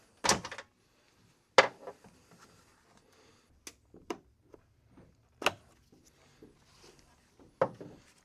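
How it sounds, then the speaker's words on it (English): Plastic clips and a taillight on a Nissan Z being pried loose from the rear bodywork: a few sharp clicks and snaps spaced over several seconds, close up, with quiet handling noises between them. "Pop that out like so, and then pry off the taillight there."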